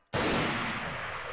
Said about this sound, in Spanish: Le vamos pegando unos tiros en el bichito